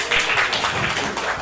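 A crowd at an awards ceremony applauds the finalists, a brief, dense wash of clapping from many hands, loud and continuous.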